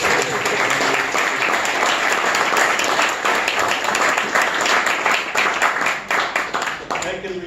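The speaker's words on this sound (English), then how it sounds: "one big applause" An audience at a lecture during a European traditional karate championship event gives one big round of applause, dense sustained clapping that carries on for several seconds and thins out toward the end.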